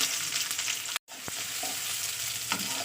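A whole onion fries in hot oil in a kadai while being stirred, with a close, steady sizzle broken by a sudden momentary cutout and a few sharper spatula scrapes. No one speaks.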